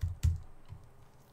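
A few sparse keystrokes on a computer keyboard while coding in Unreal Engine C++, close and dull, with a pause between them and no talk.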